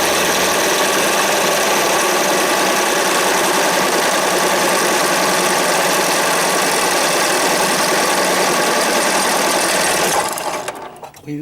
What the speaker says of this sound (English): Clean it up on the wire wheel and see what we got.